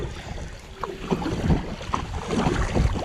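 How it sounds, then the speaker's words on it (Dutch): Steady gusting headwind roars across the microphone, with faint splashing and knocking of a Sevylor Charleston inflatable kayak paddled on still water underneath. "Het waait hard en ik zit dus echt pal tegen de wind."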